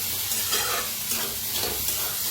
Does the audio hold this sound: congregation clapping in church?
no